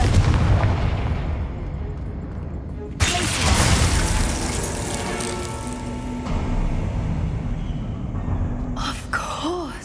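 Explosive magical blasts from Bombarda and Confringo spells in a Harry Potter video game, a sharp loud burst followed by rumbling debris and shattering, with a voice speaking over the action.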